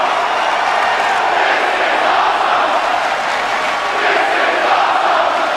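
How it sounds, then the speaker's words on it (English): Wrestling crowd cheering loudly and continuously, a dense roar of many voices with whoops rising and falling throughout, no talking over it. "The crowd is absolutely loving this."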